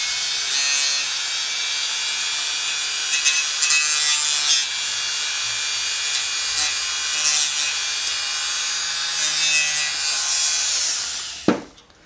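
A powered hot-wire style tool cuts a gouge into blue Styrofoam, giving a steady, close, high-pitched rasping whir with small surges that runs for most of the stretch before switching off near the end.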